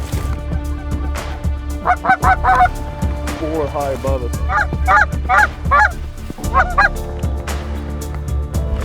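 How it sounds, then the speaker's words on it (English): Canada geese honking loudly overhead during a hunt, a dense chorus of repeated nasal calls from a flock close above, with a voice speaking briefly among them. "There are geese behind us too."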